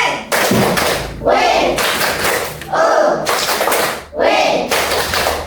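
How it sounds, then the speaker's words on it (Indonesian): A school class claps in rapid rhythmic bursts, several loud rounds of applause with brief gaps, close by in a classroom. "Tepuk tangan dulu semuanya."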